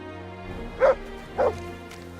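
A dog in Kingdom Come: Deliverance 2 gives two short, sharp barks about half a second apart. They sound moderately close and stand out over a low, steady in-game ambience with no talking.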